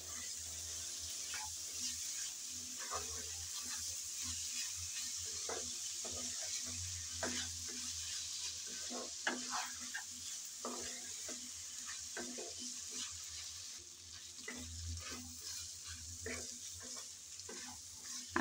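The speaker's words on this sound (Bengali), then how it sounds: "আমি 3-4 মিনিট যাবৎ এভাবে নেড়ে চেড়ে ভালো করে কষিয়ে নিয়েছি।" Rice and lentils are stirred and fried with spices in a pan for khichuri, giving a soft, low sizzle with scattered scraping stirs, fairly quiet and close.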